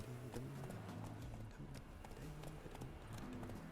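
Horse hooves clip-clop steadily in The Witcher 3 as the mount moves, a quiet repeated beat in a low-level game mix.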